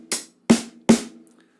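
Three short, crisp strokes land on a snare drum and hi-hat, close and fairly quiet, as part of a paradiddle sticking.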